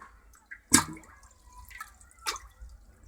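IKEA drinking glasses being pushed under water to immerse them for ritual dipping: a couple of soft splashes and drips, close and quiet, with no talk.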